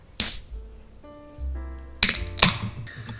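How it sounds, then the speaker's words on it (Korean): A sharp metallic pop and hiss as a beer can is cracked open, followed by a couple of quick clinks and fizzing bursts, close and crisp. "소리는 이 맥주캔 따는 소리가"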